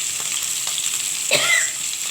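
Katla fish pieces frying in oil, a bright steady sizzle with a brief scrape and clatter of a spatula partway through, no speech.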